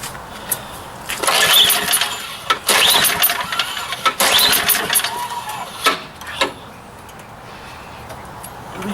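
A neglected snow blower engine cranks and sputters through several loud start attempts, catching briefly in bursts before falling quiet, heard close and alone.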